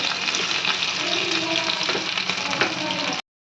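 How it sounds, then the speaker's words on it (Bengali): Fish with scored skin frying in a pan over low heat, giving a steady, close hiss and crackle that holds even throughout and stops abruptly near the end. "সেই জন্য মাছটা একটু কম আঁচে ভাজলে ভালোভাবে হবে।"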